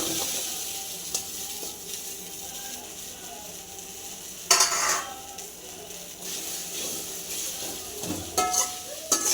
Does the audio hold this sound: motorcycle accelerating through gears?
no